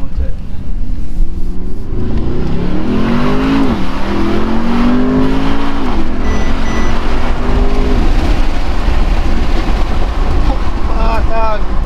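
A 2019 Brabus 800 in sport mode pulls hard, its engine rising through rising and falling revs with gear changes, loud and close from inside the car over road rumble, with a later shorter rev surge near the end.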